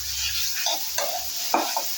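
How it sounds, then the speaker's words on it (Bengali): Salted ridge gourd stirred in a frying pan, with a spatula scraping and a few sharper scrapes over a soft sizzle, close and alone without talk. "এখন আমি নেড়ে চেড়ে দেব।"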